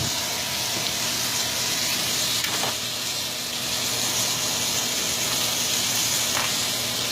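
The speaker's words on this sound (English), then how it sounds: "We're going to throw some pats of butter inside there." Pats of butter sizzle in a hot pan alongside porterhouse steaks, a constant close crackling hiss with a few sharper pops, no voices.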